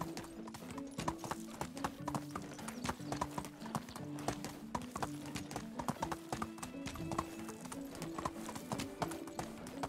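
Horse hooves gallop steadily in the medieval survival game Medieval Dynasty, a continuous rapid clip-clop rhythm close up under game ambience, with occasional neighs and no talk over it.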